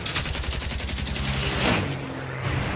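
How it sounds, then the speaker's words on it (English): A bomber's gun turret fires in a sustained rapid burst at a Fw 190 fighter, rattling close and loud with the rhythmic hammering of machine-gun fire that tapers off near the end. "The remaining turret fires with all he has at the 190"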